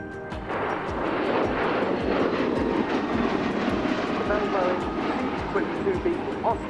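A V-22 Osprey, the Bell-Boeing tilt-rotor military aircraft, roars loud and close, its big rotors beating out a steady, rapid thump under a continuous engine drone that holds for several seconds.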